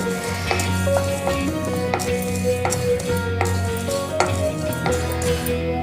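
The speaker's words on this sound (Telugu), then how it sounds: "ఇప్పుడు జీలకర్ర కొంచెం దోరగా వేపుకుందామండి" Cumin seeds dry roasting in a pan without oil, with fenugreek seeds already in, giving a steady low sizzle and rattle broken by regular scraping strokes of the spoon.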